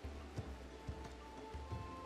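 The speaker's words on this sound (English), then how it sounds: "So 1 degree and it's raining, not the best weather" Steady rain in the video game RimWorld, a soft continuous patter with a few low thumps, quiet and even across the clip with no talk.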